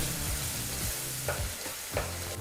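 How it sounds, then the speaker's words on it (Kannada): Onion paste fries in oil over a low-medium flame for fenugreek-leaf thokku, giving a continuous close sizzle with a few soft stirring scrapes and no talk. "ಈಗ ಈ ಈರುಳ್ಳಿ ಪೇಸ್ಟನ್ನು ನಾಲ್ಕೈದು ನಿಮಿಷ ಲೋ ಟು ಮೀಡಿಯಮ್ ಫ್ಲೇಮ್ನಲ್ಲೇ ಚೆನ್ನಾಗಿ ಫ್ರೈ ಮಾಡ್ಕೋಬೇಕಾಗತ್ತೆ"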